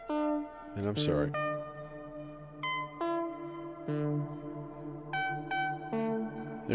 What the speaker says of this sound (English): There's that reverb.